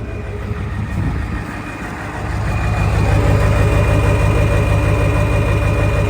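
A turbocharged Ford 7.3 IDI diesel truck engine idles close by with a steady low clatter and rumble, growing somewhat louder partway through and holding there, with no talk.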